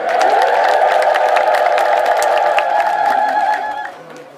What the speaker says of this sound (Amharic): አሁንም በድጋሚ እግዚአብሔርን እልል ብላችሁ አመስግኑ